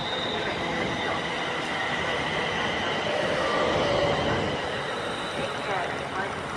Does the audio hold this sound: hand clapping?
no